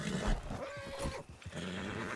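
Horses in the Red Dead Redemption II roleplay game neigh and snort up close, with a few hoof clops under a steady, moderately loud background.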